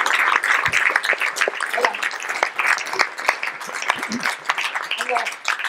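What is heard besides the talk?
audience applauding a guest joining the stage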